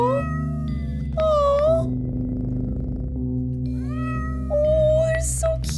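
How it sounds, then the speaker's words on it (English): Cats in the video game OneShot meow in drawn-out, rising cries. Two clear meows stand over a steady synthesized music bed, and a brief exclamation is heard near the start. "Oh, but you have kitties!"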